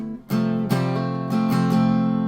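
Guitar strumming the chords of a song: a string of close, ringing chord strums, each struck once and left to sustain, played alone.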